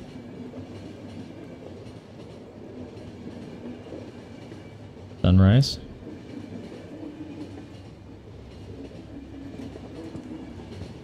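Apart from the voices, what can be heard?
train running in video game The Final Station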